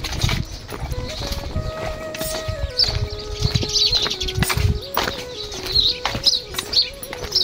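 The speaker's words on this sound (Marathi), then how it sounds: "चिमण्यांचा काय मस्त आवाज किलबिलाट येतो ऐकायला." Sparrows chirp near a village ashram at Bhadpura along the Narmada, bright twittering scattered through the clip under a busy mix of background noise, a steady tone and a few voices.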